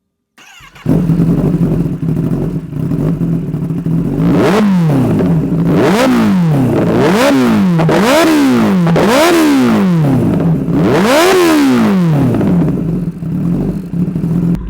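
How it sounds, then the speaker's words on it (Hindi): A 2025 Kawasaki ZX-10R 1000cc with an Arrow full exhaust system idles loudly, then is blipped repeatedly in sharp, rising-and-falling revs, with bursts of roaring throttle clustered near the end, close to the bike and with no talking. "आपको इसका एग्जॉस्ट नोट सुनाता हूँ and then will ride it"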